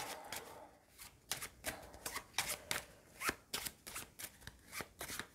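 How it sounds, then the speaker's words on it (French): Playing cards for the Carnegie board game being riffled and shuffled by hand in a series of crisp, close bursts separated by brief pauses, with no talking. "je remélange le paquet"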